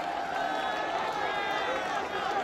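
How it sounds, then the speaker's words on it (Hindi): An audience at a college alumni gathering at IIMT claps steadily, a dense, continuous wash of many hands filling the room with crowd murmur mixed in, holding at an even level throughout. "Round of applause."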